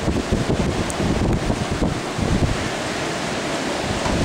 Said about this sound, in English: that sound is the sound of the terrific storm that is attacking Fargo right now